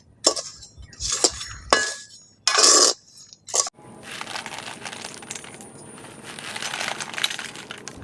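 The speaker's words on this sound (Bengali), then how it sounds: "আবার কিছুটা বাদাম বালির মধ্যে দিয়ে দিচ্ছি উনুনের আঁচটাকে একটু বাড়িয়ে রাখতে হবে" Peanuts in their shells tossed and roasted in hot sand in a pan over a stove, giving bursts of dry rattling and clinking, then a steady gritty scraping churn, close and fairly loud with no talk.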